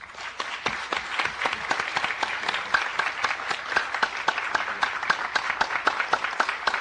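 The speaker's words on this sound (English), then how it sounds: "Could you join me in a round of applause for our panel?" Audience applause for a panel at the close of a morning forum on protecting LGBT youth, a steady dense patter of many hands clapping alone for several seconds.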